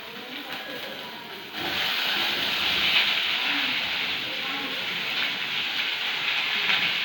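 Onions are frying in a pan with red chillies and garlic. The sizzle is quiet at first, then jumps to a loud, dense hiss that continues steadily as they are added.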